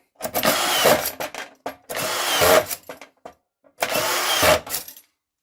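A Kaltmann K-WZP18V cordless autofeed screwdriver drives screws into drywall in three loud, close whirring bursts, each about a second long, separated by short pauses and small clicks of the feed mechanism.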